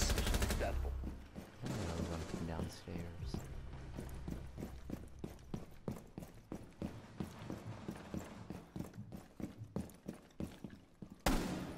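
Rainbow Six Siege gunfire, a long run of loud, rapid shots cracking in quick succession, then a heavy burst at the very end, with a brief voice early on.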